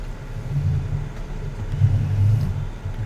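A tractor engine in the video game Farming Simulator 19, a low steady rumble that swells and eases slightly, close and continuous with no talk.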